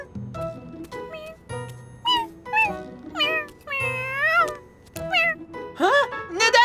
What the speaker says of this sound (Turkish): Bak, kedi bir şey almaya Ha? gelmiş.